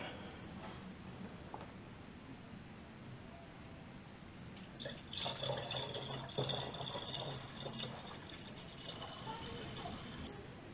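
Distilled water gurgles and trickles as it is poured into the coolant reservoir of a 1997 Ford Explorer, faint at first, then rising into a steady filling splash before tapering off.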